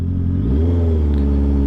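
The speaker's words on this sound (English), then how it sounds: "let me know what you guys think of this exhaust, because like there is no baffle" A new motorcycle with a baffle-less exhaust revs loud and close, a deep throaty drone that climbs in pitch after a brief rise and holds steady, with no one talking.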